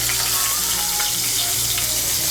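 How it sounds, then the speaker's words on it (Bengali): Bitter gourd fries in hot oil in a pan, giving a bright, steady sizzle that fills the short stretch without pause. "এই তেলের মধ্যে আমি উচ্ছেটা ভেজে নেব।"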